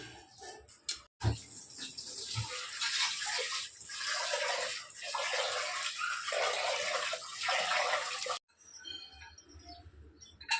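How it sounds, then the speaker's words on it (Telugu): Split pigeon peas (toor dal) being rinsed in water in a home kitchen, a steady splashing, swishing wash running close and fairly loud for about seven seconds, with brief pauses at the start and end. "కందిపప్పు కడుగుతాను"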